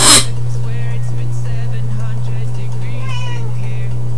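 A cat meows inside the video game Animal Jam, short harmonic calls rising over a steady game hum and background music, with a person talking over the top.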